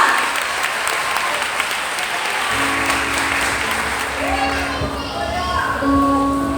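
At a women's church congress, the congregation claps loudly and continuously; partway through, sustained musical tones from an instrument rise beneath the applause, which carries on with occasional voices.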